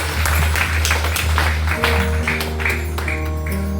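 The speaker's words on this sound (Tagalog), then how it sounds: "deserve ng Panginoon ang ating malakas na palakpak" Applause from a congregation at a Communion Sunday church service, a broad steady wash of clapping over a low sustained hum, with sung or held tones emerging toward the end.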